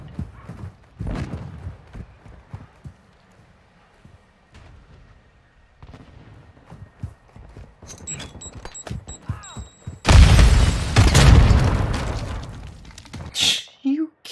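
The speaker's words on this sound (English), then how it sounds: "Tossing a dummy grenade!" A dummy grenade in a PUBG-style online shooter thumps down and bursts in a loud, roaring explosion after a stretch of quieter footsteps and scattered shots, with a further sharp blast near the end.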